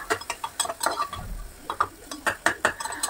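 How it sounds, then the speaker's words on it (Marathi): Finely chopped onion sautéed until golden for mutton soup, with quick, close clinks and scrapes of a spoon against the pan in an uneven rhythm and only a faint fry beneath. "त्यानंतर 1 मोठा कांदा मी बारीक चिरून घेतलेला आहे, तो सुद्धा छान असा सोनेरी कलर येतोपर्यंत परतून घ्यायचा।"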